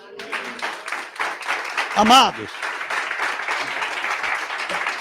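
A church congregation claps in a steady, moderate patter while a voice briefly speaks over it.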